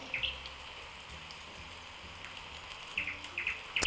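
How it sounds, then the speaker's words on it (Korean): Faint bird chirps come in short bursts near the start and again toward the end, over a steady rain-like hiss. "이 간간히 들리는 새소리"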